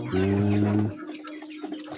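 Chickens behind a rural village house in Thailand: one loud, drawn-out fowl call for just under a second, then faint scattered clucks and yard noise.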